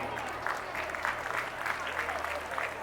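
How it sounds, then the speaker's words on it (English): Audience applause fills a school Independence Day celebration after a stage performance, a steady wash of many hands clapping at moderate distance, fairly soft and continuous. "Let's applaud for their efforts once again"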